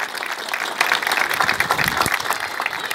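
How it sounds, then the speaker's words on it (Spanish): Applause from the crowd at a campaign closing rally, a thick burst of clapping that swells and stays strong before easing slightly toward the end. "Un fuerte aplauso también para este gran candidato a diputado, Emilio."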